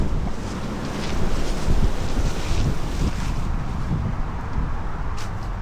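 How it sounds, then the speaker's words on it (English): Strong wind blowing outdoors on a hillside, roaring and buffeting the microphone in a continuous low rumble with gusts, no talking over it. "Very windy"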